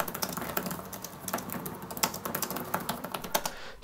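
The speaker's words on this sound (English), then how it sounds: "Keys feel and sound great even if they are shallow." Rapid, steady typing on a Google Pixel Slate keyboard folio, close up, with soft clicky shallow keystrokes in an uneven rhythm and no voices.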